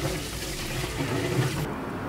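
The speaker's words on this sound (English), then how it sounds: "The not so fun side of emptying the grey water tank is I got some splashback." Grey water drains from a campervan tank at a lakeside campground, a steady close gush of water lasting about two seconds.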